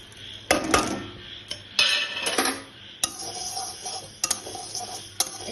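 Whole spices (coriander, cumin, chilli, cardamom, cinnamon, fennel, fenugreek and panch phoron) are dry-roasted and stirred in a pan, with close scraping sweeps and sharp metallic taps of a spatula at irregular intervals.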